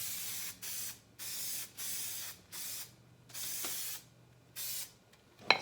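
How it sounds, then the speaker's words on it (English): A series of about seven short hissing spray bursts from an aerosol adhesive can while wrapping a 2014 Mustang headliner, separated by brief pauses, close and fairly loud. "Quick little spray."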